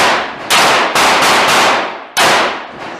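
Gunshots go off one after another at an outdoor shooting range, loud close blasts with long echoing decays, several in quick succession, then a pause and more shots.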